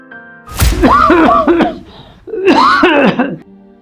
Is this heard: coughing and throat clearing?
yes